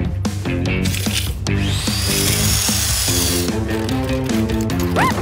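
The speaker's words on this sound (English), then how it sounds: "Power drill!" A cartoon power drill whirs and rattles busily against a backdrop of upbeat music and assorted tool noises, loud and continuous with no speech.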